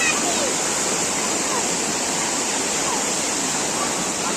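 Loud, continuous roar of a village river in flood after heavy rain, broad and steady throughout with no pauses.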